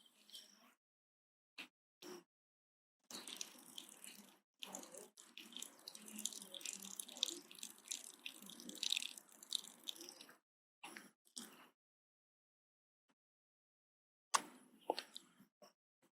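Water streams and drips during rubber neti nasal cleansing, a patchy run of splashing and trickling with short gaps and isolated drips, fairly quiet and close, with no talking.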